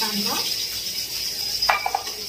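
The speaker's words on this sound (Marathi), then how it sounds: "कांदा एकदम असा लाल होईपर्यंत मस्त फ्राय करत राहायचं।" Chopped onion fries in hot oil with popped mustard seeds and garlic, giving a steady close sizzle. A voice is heard briefly at the start, and a few light clinks of a utensil on the pan come near the end.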